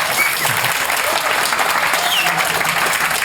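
Steady, dense applause from a large audience at a live comedy show in London claps continuously throughout, loud and close.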